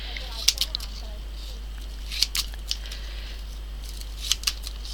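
Scissors snip through corrugated cardboard in a few sharp clusters of crackly cuts, close and fairly quiet over a steady low hum, while shaping a cardboard pouch for dip pen nibs.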